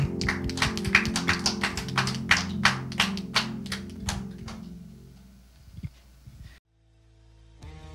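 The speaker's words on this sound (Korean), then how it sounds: "우리 하나님께 영광의 박수 올려드리겠습니다" A congregation at a teen Sunday worship service at Seoul Dream Church claps in steady, rhythmic unison over sustained musical tones. The clapping gradually thins and fades, then stops abruptly before a brief quiet tone.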